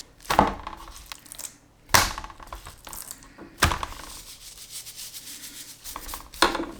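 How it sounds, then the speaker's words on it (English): Hands rub salt onto both sides of beef sirloin and rib eye steaks, making soft, close scraping and rubbing sounds broken by occasional sharp pats and thumps. "Now next step, we need to add some salt either side. Salt the steaks."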